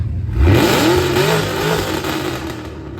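A loud car accelerating and revving nearby at a car meet, its engine roaring up in a rising sweep and then holding a harsh, sustained drone until it fades slightly at the end.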